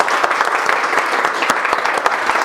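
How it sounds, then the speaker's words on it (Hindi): A group of trainees in a phone repair class clap for themselves, close and fairly loud, with distinct individual hand claps standing out in an uneven burst of applause. "सबसे पहले एक बार ताली बजाओ खुद के लिए"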